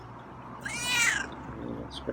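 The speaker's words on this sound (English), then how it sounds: "Scruffy likes the meows" Scruffy, a feral cat, gives a single drawn-out meow near the middle, clear and fairly close against a quiet background, followed by a faint short trailing note.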